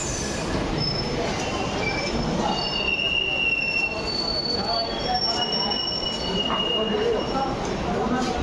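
A passenger train runs with a continuous rolling rumble and high, drawn-out wheel squeals throughout, heard from inside the carriage with faint background voices.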